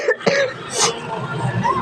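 A few short coughs and throat-clearing sounds, close and fairly loud, followed by strained breathy vocal noises.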